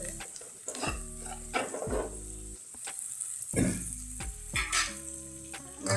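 Gargangata vegetable fries in a pan with turmeric and homemade red chili powder, the soft sizzle broken by repeated scraping, clattering stirring strokes of a utensil against the pan.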